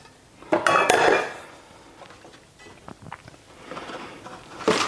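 Caraway cookware pots and pans, including a 4.5-quart sauté pan and a 6.5-quart Dutch oven, being handled in a few clattering bursts of metal knocks and clinks, loud at the start and end with quieter handling between.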